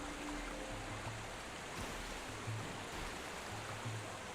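A waterfall in the game Pokemon Violet roars as a steady, broad rush of falling water, even and unbroken throughout.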